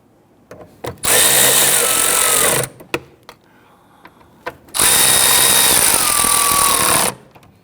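A power tool runs in two sustained bursts, about a second and a half and two seconds long, snugging down starter bolts on a 2011-2015 Kia Sorento, with faint clicks and handling noise in the pause between them.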